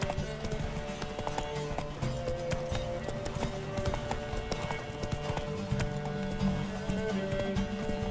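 Roach, a horse in The Witcher 3, gallops with a steady, continuous clip-clop of hooves at close range, set against a game soundscape of background music, with occasional neighing.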